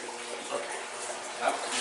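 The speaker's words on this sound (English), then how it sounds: "Go ahead and shut off the water. That bucket is about to overflow." Water runs steadily from a tap aboard the decommissioned Galveston-class cruiser USS Little Rock, a constant broadband rush with a slight swell near the end as a bucket nears overflowing.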